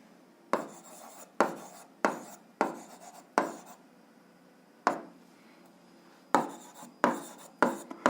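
Marker or chalk strokes on a board in an eighth-grade algebra lesson: about ten short, sharp scratching bursts, spaced irregularly, with a quiet gap in the middle. No voice is heard.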